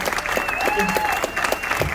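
An audience claps for a book-presentation panel, a short burst of dense applause with a voice faintly audible over it.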